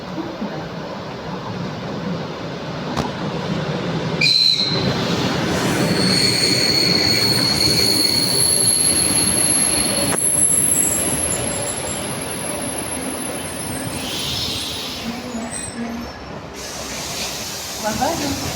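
Suburban train rolling through a station on the Yaroslavl line in Moscow, with steady wheel rumble, high metallic squeals and brake hiss. A station announcement plays over it.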